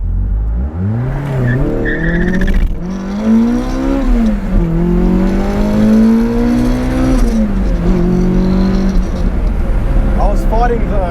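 A Toyota AE86 with a swapped 4.7 differential accelerating hard from low speed, the engine note climbing steadily through the gears with tire spin, loud and close, with people talking over it.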